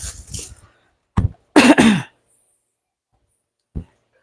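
A woman coughing: several short, close coughs and throat-clearing bursts separated by silences, ending with one brief cough, no speech.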